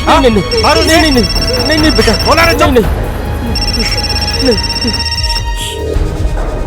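Mobile phone ringing with a call from mother, a steady repeating electronic ringtone heard under overlapping talk and background music in an indoor scene.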